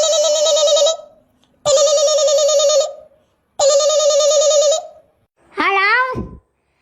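Tones from a phone being dialed to call someone's mother. Three long, even beeps are separated by gaps, and a fourth warbling tone bends in pitch. Each one is clear and loud.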